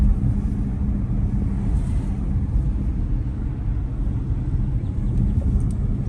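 A Dodge Charger AWD with a Hemi engine, said to have a rattle, gives a steady low rumbling drone close by with no distinct changes and no talk.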